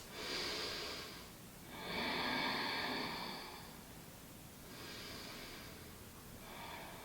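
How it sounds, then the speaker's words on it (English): Slow, deep breaths during a yoga forward fold, with three or four long airy inhales and exhales at close range and soft pauses between them. "And just a couple of deep breaths."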